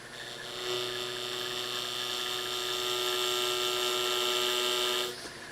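A wood lathe turns a soft chuck jaw while a negative rake scraper cuts it, giving a steady whining tonal drone that holds evenly for about five seconds and then stops abruptly, with no talking.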